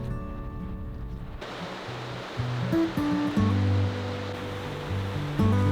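Wahclella Falls on Panther Creek in the Columbia River Gorge gives a steady, broad rush of falling water, with music playing over it throughout.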